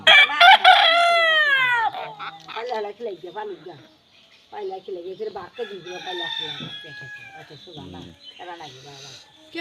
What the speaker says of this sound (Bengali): মোরগে গরম ধরছে